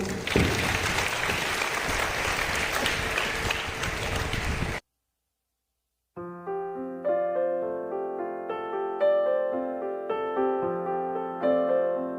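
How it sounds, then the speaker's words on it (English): A crowd applauds a performing team at a Kargil Day celebration: a few seconds of dense, even clapping that cuts off into a brief silence, followed by melodic music. "Please give a round of applause for them."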